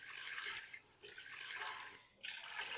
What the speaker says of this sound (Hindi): मैंने इसमें टोटल 4 गिलास पानी शामिल कर दिया है।